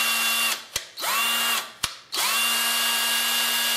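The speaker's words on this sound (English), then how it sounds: "we see if the drill works now" A cordless battery drill rewired to run on mains power in a workshop whirs loudly in three bursts, spinning up and winding down between short pauses, the last run held steady at full speed.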